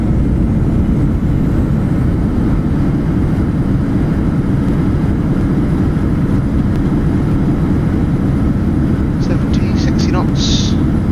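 Simulated PMDG 737 NG jet engines spooling down after reverse thrust on landing in MSFS, a loud, steady low roar filling the whole stretch, with a few brief higher clicks near the end.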